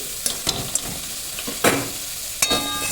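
Capsicum and tomato sizzle steadily in butter in a hot pan while a utensil stirs and scrapes, clicking against the pan every so often.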